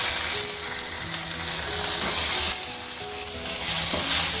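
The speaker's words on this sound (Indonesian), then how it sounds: "goreng ikan sampai kurang lebih ke kuning-kuningan ya" Fish fries in hot oil in a pan over medium heat, a steady, fairly loud crackling sizzle with occasional brighter pops, heard alone without talk.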